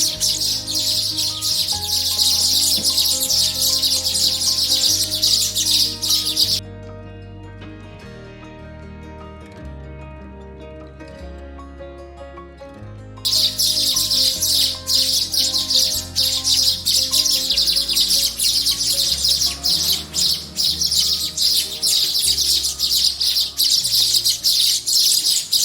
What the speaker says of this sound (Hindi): भूख से व्याकुल चूजे जोर जोर से चिल्लाते और मैं उन्हें मां की ममता से खिलाती।